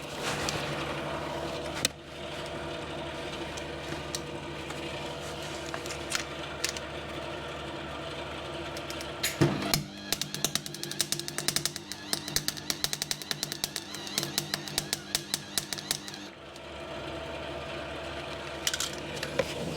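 MIG welder working on a Ford Transit Connect 1.6 TDCi diesel spare wheel carrier, giving a steady buzzing hiss broken by short crackling, sputtering bursts, close and fairly loud, with no talking.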